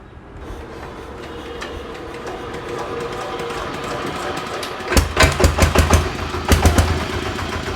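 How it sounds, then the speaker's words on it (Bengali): A second-hand 10.5 horsepower diesel power tiller engine cranks over a steady background rumble, then catches with a loud burst of rhythmic chugging pulses that continue close by. "আচ্ছা এরপরে আমরা এই ইঞ্জিনটা একটু স্টার্ট দিই।"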